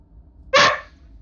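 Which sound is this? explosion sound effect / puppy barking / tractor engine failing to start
puppy barking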